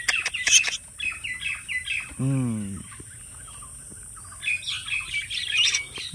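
Pet birds call while being fed papaya: high, scattered chirps at the start and end, with one louder, lower rasping call in the middle, fairly faint overall and with no one talking over them.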